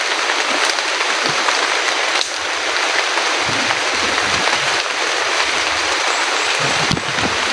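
Steady heavy rain falls outdoors in the Philippines, a dense continuous hiss with scattered closer drops and patters, loud and unbroken throughout with no talking.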